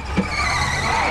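A car skids on screen in a movie at a housing development: a brief thump, then a sustained, loud tire squeal with engine noise that continues steadily to the end, with no speech.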